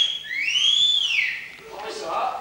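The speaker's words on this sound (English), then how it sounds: "A wolf whistle." A wolf whistle is sounded as a prop in an amateur stage pantomime of Little Red Riding Hood, a single loud rising-and-falling slide followed by a faint voice.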